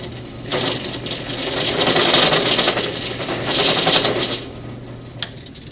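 Drill boring a hole through a wooden yo-yo, a continuous grinding, rubbing whir that swells and eases over several seconds, close and loud, then stops abruptly with a small click.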